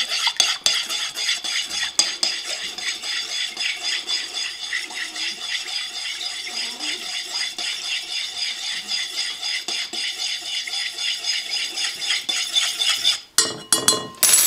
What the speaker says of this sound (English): you mix it up there until the yeast dissolves